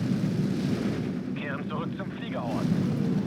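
Dive-bombing air attack in the World War II strategy game Steel Division 2, with rumbling explosions and artillery-like booms over a continuous low roar and a voice talking through it.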